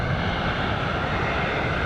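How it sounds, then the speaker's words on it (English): An airplane arriving at Mogadishu airport, its engine roar steady and loud across the whole stretch, a broad continuous rumble with no speech over it. "he's filming the planes come in"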